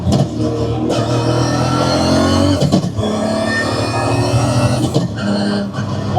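A 1334 HP Toyota Supra engine revs hard and loud up close, climbing through gears with sharp breaks and throttle blips between shifts, rising pitch in each pull.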